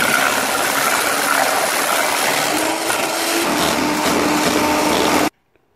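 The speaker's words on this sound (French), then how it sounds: "on va battre nos blancs d'œufs en neige" An electric mixer whirs steadily and loudly at close range, beating egg whites into stiff peaks for a chocolate mousse, running for about five seconds before cutting off abruptly.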